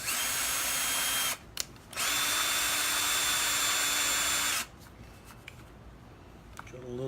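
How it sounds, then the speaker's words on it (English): A power drill whines while boring into a door jamb jack stud, in two bursts, one brief and one of about three seconds, with a high steady motor tone, followed by quieter handling noises. "And we'll drill this one."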